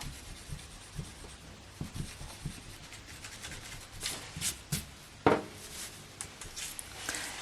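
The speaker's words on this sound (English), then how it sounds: "gonna rub this line out" An eraser rubbing out a coloured pencil line on a drawing of a dog's mouth, giving soft, quiet scrubbing strokes in short uneven bursts, with a few sharper scuffs near the end.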